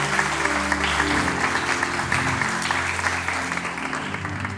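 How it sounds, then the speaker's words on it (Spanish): A congregation at a church youth seminar on finances claps warmly, the broad rattle of many hands continuing evenly throughout with a low musical hum beneath and fading slightly toward the end. "Denle un aplauso a estos hermanos amados que están acá."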